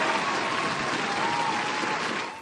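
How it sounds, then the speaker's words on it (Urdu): Steady applause from a studio audience during an Urdu radio show, a dense, even patter of clapping that holds for a couple of seconds before tapering slightly at the end. "اس پہ تو تالیاں بنتی ہیں یار، زبردست"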